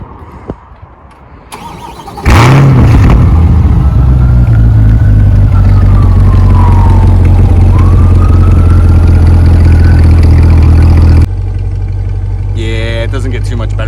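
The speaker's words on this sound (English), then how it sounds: "I'm gonna get a cold start here for us. So let's just take a listen." A 2021 Chevrolet Corvette C8 engine cold-starts, cranking and firing up with a loud roar, then settles into a steady, deep idle that continues for several seconds before dropping off.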